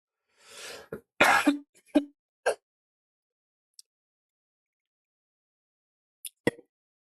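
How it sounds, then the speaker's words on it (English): A person coughs several times in a quick cluster, then a few faint clicks follow, and two more small throat sounds come near the end. "Sorry, I just need to cough."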